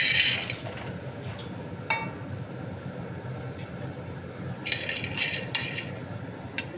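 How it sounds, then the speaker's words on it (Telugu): Dry almonds rattle and scrape across a hot pan as they are roasted for dry-fruit laddu, a constant gritty rustle broken by sharper clinks of a utensil against the metal. "బాదం పప్పు కూడా వేపుతున్నాం అన్నమాట"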